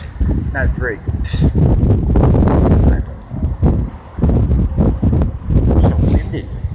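Strong wind blasts at a motel pool, roaring and buffeting the microphone in loud surges with brief lulls, while someone talks over it.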